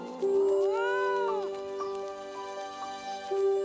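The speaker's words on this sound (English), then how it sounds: "Alice spotted a grinning cat ready to pounce on a rabbit" A grinning cartoon cat meows in a children's magic-garden story, letting out a couple of drawn-out, rising-and-falling meows, close and clear, followed by a sustained tone.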